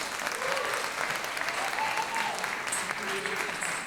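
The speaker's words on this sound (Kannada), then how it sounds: "ಬರಲಿ ಇನ್ನೊಮ್ಮೆ ಚಪ್ಪಾಳೆ." An audience claps steadily at a Yakshagana dance-drama performance during Ganeshotsava 2025, a dense, even patter of hands throughout, with a voice faintly heard underneath.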